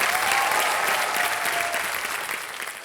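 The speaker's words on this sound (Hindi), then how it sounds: "देवियों से ताली बज जाए इनके लिए।" A studio audience on the Kaun Banega Crorepati quiz show breaks into loud, sustained applause, a dense wash of clapping that fades only slightly over a few seconds.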